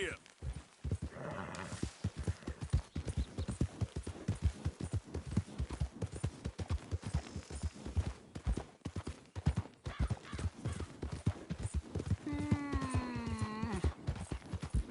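Horse hooves clip-clopping in Red Dead Redemption 2, a brisk steady rhythm of close hoofbeats with a neigh near the end and spoken voices mixed in.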